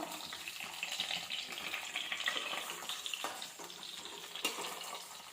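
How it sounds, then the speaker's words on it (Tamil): Brinjal fries in oil in a pan over a medium flame for an oil brinjal curry, a continuous soft sizzle with occasional scraping and stirring knocks, close and moderately quiet. "வந்து மீடியம் ஃப்ளேம்லேயே வச்சுக்கிட்டு வறுக்குவோம்"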